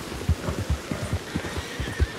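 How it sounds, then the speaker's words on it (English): A horse in Red Dead Redemption 2 neighs and whinnies with soft hoof clip-clops, the repeated calls close and clear with no talk over them. "You stupid freaking horse ruining my mood."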